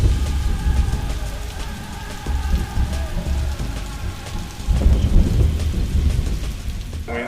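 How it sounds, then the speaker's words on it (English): A thunderstorm with heavy rain drumming steadily on surfaces and deep rolling thunder, the rumble swelling again near the end; no voices, the downpour loud and continuous throughout. "Wind, lightning, hail, rain"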